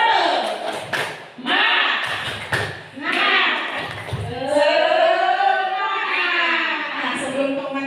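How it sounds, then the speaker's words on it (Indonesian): A room of adults does a rhythmic spirit clap in patterned bursts of claps and thumps, mixed with chanted voices, before sustained chanting takes over. "Tepuk semangat"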